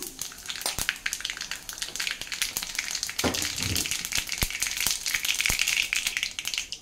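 Mustard seeds, cumin and turmeric sizzle and crackle in hot oil in a pan at close range, a steady fry with sharp pops and seed spatter throughout.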